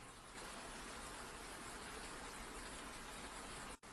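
Steady rain falls on a forest at night, an even, hissing wash of drops that holds at a soft, constant level before cutting out abruptly near the end.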